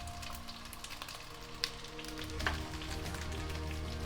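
Bean curd and black beans sizzle quietly in a pan during a stir fry, a soft, even crackle with a couple of small clicks of a utensil.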